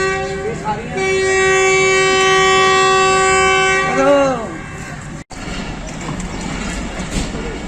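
Pakistan Express pulls out of Dina station in Pakistan, its horn blaring a long steady blast that bends in pitch as it ends, followed by the rumble of rolling carriages.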